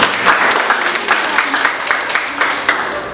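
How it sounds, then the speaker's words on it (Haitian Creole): A crowd of audience members applauds at a back-to-school initiative event, dense steady clapping filling the room with rhythmic peaks and no pauses. "Applaudissez pour moi."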